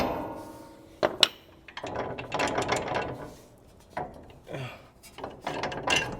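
A ratchet loosens a bolt on a daily-driver car in close, loud bursts of rapid clicking, with short pauses between the cranking strokes.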